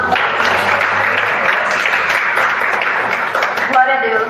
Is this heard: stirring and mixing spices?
no